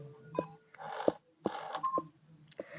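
In a house tour in a video game, an electronic doorbell at the entrance rings as a short series of clear, distinct beeping chimes with gaps between them, set against a faint background.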